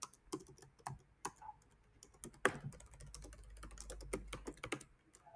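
Computer keyboard typing as an ad account name is entered, quick irregular clusters of close, crisp key clicks with short pauses, no talking.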